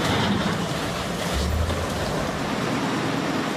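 Powerful floodwater rushing through Sochi streets after torrential rain, a steady loud broadband roar of churning water with a low rumble, continuous and close throughout.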